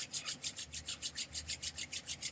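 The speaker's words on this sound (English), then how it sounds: "And you rub your hands together" Bare hands rubbed briskly together in a quiet indoor setting, a steady run of about a dozen even back-and-forth rasping strokes, close and clear with no talking.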